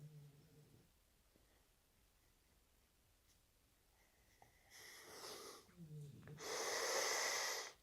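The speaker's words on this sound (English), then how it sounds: "Inhale through the left. Block, exhale through the right." Nasal breathing during an alternate nostril breathwork exercise, with soft airy exhalations through the nose building to a louder, longer rush of breath near the end, heard alone in a quiet room.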